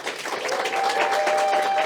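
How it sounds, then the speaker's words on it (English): A comedy show audience applauds steadily, dense clapping filling the space without pause. "Big round of applause for Marianne and the Dandenong Club."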